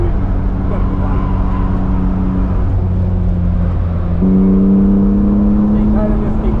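A 250,000-mile BMW M3 is driven hard around a race track, its engine droning loudly then rising in pitch as it accelerates, with a steady in-car roar throughout.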